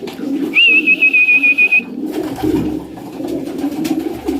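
Pigeons coo close by near their nest of eggs, a steady low cooing throughout, with a long thin whistle-like tone laid over the first second and a half.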